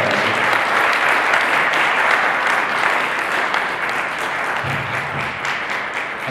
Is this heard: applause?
yes